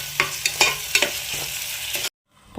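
Chopped onion with crushed ginger and garlic is stirred in a hot pan for chicken kurma, giving about half a dozen close scraping strokes over a soft fry, then stopping abruptly into silence.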